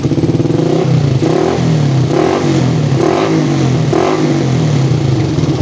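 Motorcycle engine fitted with a PWK carburetor revving loudly up and down in several close, repeated pulses, with a rough mechanical clatter throughout and no talk.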